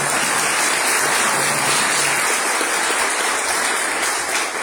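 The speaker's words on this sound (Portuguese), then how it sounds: "Um aplauso ao Senhor por nós." A church congregation claps together during a Portuguese-language evening service, a dense, steady wash of applause that holds at full strength for the whole stretch with no pauses.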